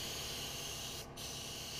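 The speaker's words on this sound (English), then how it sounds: "I set the spray pattern to a narrow 3-inch wide pattern, and I begin to outline the work area" An airless paint sprayer set to a narrow pattern coats a red brick wall, giving a steady, close, loud hiss with one brief break partway through.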